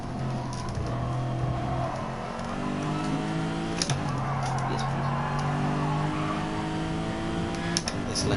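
A Lexus race car in a sim racing series rushes past, its engine note rising and falling in steady harmonic sweeps with brief shifts, moderately loud and continuous under light background noise.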